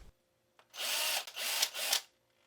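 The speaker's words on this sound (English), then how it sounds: "Then I drilled in some eye sockets." Small power drill boring eye sockets into a handmade swimbait head, three close high-pitched whirring bursts separated by brief pauses, quiet before and after.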